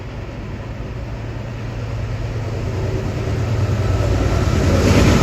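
Metro-North train approaching and passing through Riverdale station, a steady low rumble of rolling wheels and motors that grows gradually louder and nearer over several seconds.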